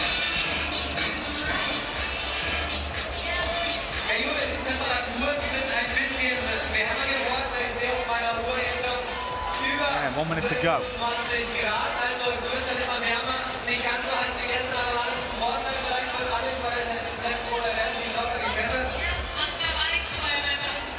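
Large crowd of spectators at the IFSC bouldering World Cup semi-finals in Munich, a constant loud murmur of chatter and cheering, with a commentator talking over it.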